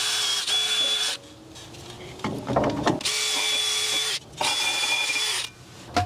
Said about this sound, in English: I'm just gonna brush these with a little wire wheel.